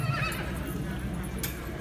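A horse neighs at a French horse sale in Decize, a brief whinny at the start over steady crowd noise and hoof sounds, with a voice speaking nearby.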